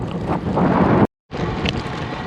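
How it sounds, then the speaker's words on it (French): A strong headwind roars into the microphone as a cyclist rides downhill at about 30 km/h, a dense, continuous rush that cuts out briefly, then returns. "Il y a toujours le vent de face, mais normalement ça le fait bien."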